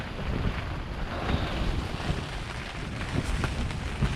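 Storm wind roars steadily against a tent at night in the Idaho mountains, a broad continuous rushing with gusty swells and soft flapping, loud and close throughout with no talking.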